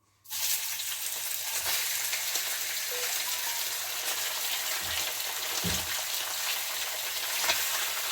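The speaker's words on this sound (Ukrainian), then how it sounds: "Для тих, хто любить послухати, як сверчить сковорода, засмальцована, сільська." Food sizzles in a greased rustic frying pan with a dense, steady hiss and a few soft clicks and pops. Close and continuous, with no talk.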